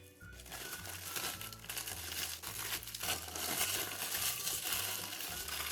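Burger-wrapping paper with a plastic-like coating being crinkled around a homemade oven-baked burger, continuous close crackling and rustling with no talking.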